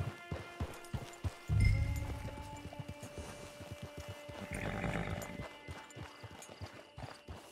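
Horse hooves clip-clop at a steady walking pace in the Western open-world game Red Dead Redemption 2, close and distinct, with a brief heavier thump partway through and no talking.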